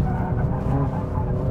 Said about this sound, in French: Ça fait penser à Tokyo Drift quand le mec il essaie de drifter